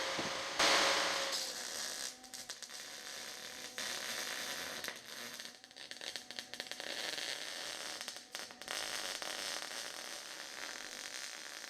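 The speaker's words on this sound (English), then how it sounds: "Let me go build the other side and I'll weld them all up." Continuous crackling arc welding on a steel front tie bar and bonnet hinge supports for an A2 replica, tacking the parts together; a steady loud sputter and hiss with brief pauses, alone without talk.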